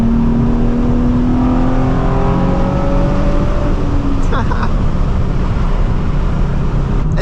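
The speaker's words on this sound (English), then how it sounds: "As soon as that variable valve timing kicks in, that VVT, the whole car wakes up." A Nissan 350Z engine revs up with a steady rising drone, heard from inside the cabin, climbing in pitch as variable valve timing engages and then dropping as it shifts, loud throughout.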